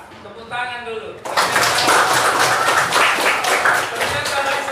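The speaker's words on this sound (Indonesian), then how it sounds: "Tepuk tangan dulu." Speech briefly, then a crowd breaks into steady applause, loud and dense, continuing to the end.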